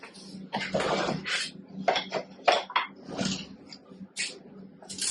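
A pan and utensils clatter and clink in a home kitchen while a pancake is flipped, with a string of close, irregular metallic scrapes and knocks.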